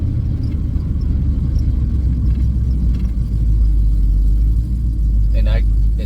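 Heavy vibration from a faulty drive shaft in a car at about 45 to 50 mph, heard from inside as a loud, steady low rumble and drone that holds throughout, with faint rattles on top.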